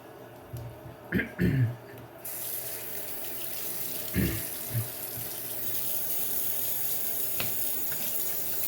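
Water is poured onto a honing stone used with an Atoma 600 plate while setting the bevel on a French frameback straight razor, giving short close splashes and trickles, then a steady wet hiss.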